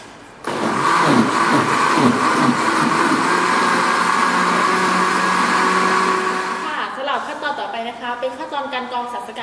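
A blender starts up and roars steadily for several seconds, churning leaves with water, then winds down and stops, leaving someone talking.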